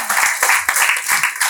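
Loud, close clapping from an audience at a school cultural program comes in several uneven bursts of applause across a short stretch.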